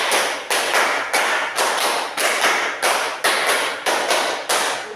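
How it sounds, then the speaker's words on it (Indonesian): A group claps in unison in a repeated pattern, loud sharp bursts of hand claps in short rhythmic clusters with brief pauses between them. "tepuk 5 3 kali"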